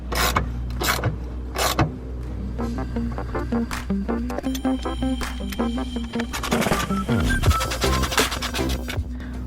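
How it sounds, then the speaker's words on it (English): A 3/8 ratchet tightens bolts on the front lower reinforcement plates of a Ford Focus RS, with sharp clicking bursts and metallic rattles repeating loudly and up close in a busy workshop. "So now we can utilise our 3/8 ratchet just to get them most of the way in, kind of like reasonably tight."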